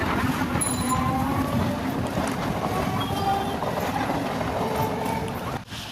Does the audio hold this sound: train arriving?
yes